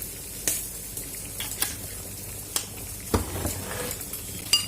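Balsamic vinegar and olive oil being stirred together into a salad dressing, with soft scraping and sharp clinks of a utensil against the bowl recurring every second or so, close and fairly quiet.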